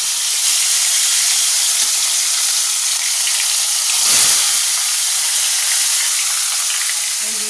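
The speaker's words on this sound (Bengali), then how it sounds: "আর মাছও ভাজতে দিয়ে দিলাম" Fish sizzles steadily in a pan of hot oil in a home kitchen, a loud continuous frying hiss with a brief surge of spitting partway through, and no talking.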